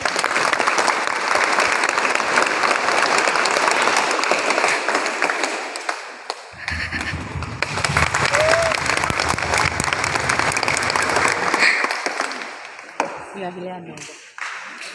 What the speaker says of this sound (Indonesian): Saudara-saudara sekalian, mari kita berikan tepuk tangan yang meriah.